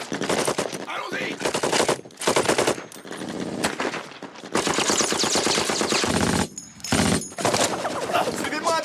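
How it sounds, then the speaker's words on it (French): Sustained machine gun bursts and heavy gunfire in a war film battle, loud and nearly continuous with brief gaps, shouted voices mixed in among the shots. "Yves, Meyer, servez-vous de la mitrailleuse!"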